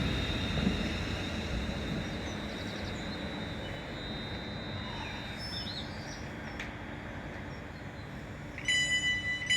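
A train on the Potteries Line slows on its approach to Kidsgrove station at 15 mph. A steady low rumble and rolling drone fill the whole stretch, near and continuous, and a brief tonal whine rises at the end.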